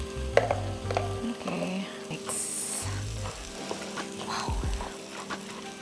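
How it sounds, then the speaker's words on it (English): Spice paste with garam masala and green chili sizzles steadily in oil in a pan for jackfruit curry, with a spoon scraping and stirring through it and small clinks along the way. "Now this has to cook really well so that all the oil starts to separate"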